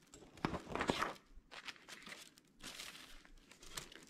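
Crinkling and rustling of transfer paper being handled and positioned over a sketch for a centerpiece, in irregular close bursts with quiet gaps between.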